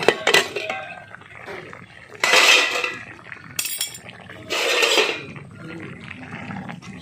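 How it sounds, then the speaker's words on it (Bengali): A lid comes off a cooking pot of fish and ridge gourd peel with bottle gourd leaves, giving metallic clinks and clatters, then bursts of hissing steam and bubbling between quieter gaps. "এবার আমি ঢাকনাটা খুলে নিচ্ছি"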